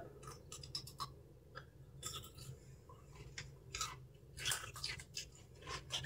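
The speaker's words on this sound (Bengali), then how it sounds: "তুমি শসাটা চুষে চুষে খাও, নাহলে চিবিয়ে চিবিয়ে খাও" Someone chewing a large cucumber, close and faint, with a run of wet, crunchy bites and pauses spread across the whole stretch.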